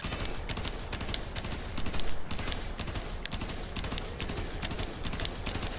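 Tiberon Prime rifle fire in the game Warframe, shot in burst mode: rapid, evenly spaced bursts of sharp gunshots repeat in a steady rhythm throughout, at moderate loudness with no talk.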